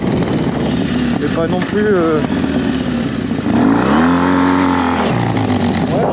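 A motorcycle engine revs as the throttle is opened on a group ride, rising in pitch and then falling back, heard close behind continuous French conversation.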